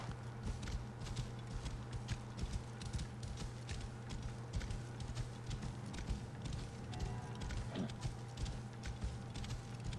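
Steady clip-clop of horse hooves at a walking pace in the video game Assassin's Creed Origins, rhythmic and fairly quiet, over a constant low hum.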